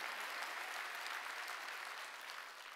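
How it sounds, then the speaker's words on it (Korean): A church congregation claps together during a Sunday worship service, making a brief, even wash of applause with no voices over it. "박수치라는 거야."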